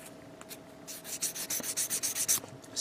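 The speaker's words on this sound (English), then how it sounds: "sand down the nubs there. Sand down the nubs there." Plastic Gundam model kit parts, a 1/144 HG GM, having their gate nubs sanded by hand: quiet, close, rhythmic scratchy rubbing strokes that quicken into a steady back-and-forth series with no talk.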